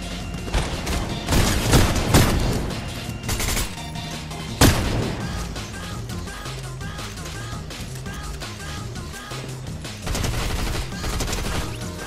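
Video game gunfire during a Fortnite-style match, rapid bursts of shots and volleys with one sharp louder crack, heard over game music, no clear speech.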